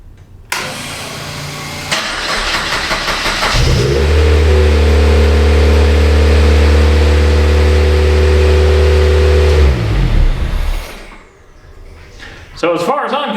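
A K24 engine in a prototype race car starts and runs loudly for several seconds at a steady idle with a deep, even drone, then shuts off, leaving quieter sounds around it.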